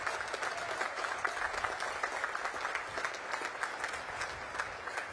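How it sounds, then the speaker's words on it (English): A large audience at a Naval Academy commencement applauds its distinguished graduates, a dense, steady wash of clapping that holds at an even level throughout. "Please join me in recognizing and applauding these distinguished graduates."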